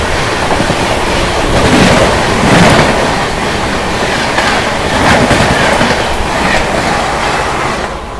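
The 15119 Banaras–Dehradun Janata Express passes on the adjacent track of an Indian railway line, a loud, steady rumble and rhythmic wheel clatter filling the whole passage at close range.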